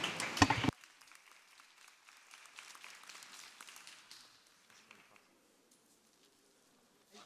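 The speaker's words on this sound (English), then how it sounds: "a round of applause to Nastya" Applause closing an integration conference in Estonia: a loud, sharp burst at the start, then scattered, soft clapping that tapers off into near silence.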